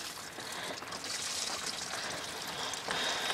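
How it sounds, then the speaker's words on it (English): Engine coolant trickles and drips from a car's cooling system during water pump replacement, a soft continuous pouring stream heard alone at low volume. "Just let that drip on out of there."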